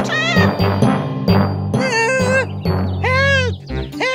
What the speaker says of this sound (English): Here, kitty, kitty. Good kittens come back inside.